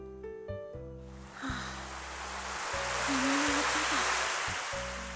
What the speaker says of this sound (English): The sound of the waves. It's nice.